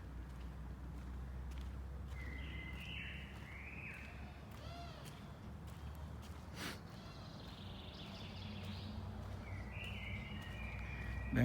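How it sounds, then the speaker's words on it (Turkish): Several birds chirp and trill intermittently in the morning in Kuzuluk, Akyazı, Sakarya, against a steady low rumble of background noise, calls fairly faint and scattered across the stretch. "Sabahleyin böyle kuş sesleri."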